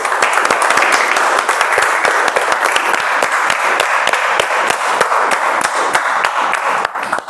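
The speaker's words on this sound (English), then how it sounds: "Can we have a round of applause?" A room full of people at a Toastmasters club meeting applauds steadily, the dense clapping holding at an even level throughout before thinning slightly at the very end.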